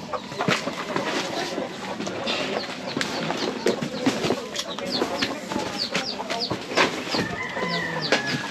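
A flock of chickens clucks and calls continuously in a busy, noisy setting, with overlapping clucks near and far and people talking among them.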